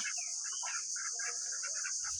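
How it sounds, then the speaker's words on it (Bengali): Domestic ducks at a village homestead beside a pond quack in short repeated bursts, fairly close, over a constant high hiss of insects or wind. "দেখছেন আমার হাঁস প্যাক প্যাক প্যাক প্যাক 12 মাস আমার হাঁস।"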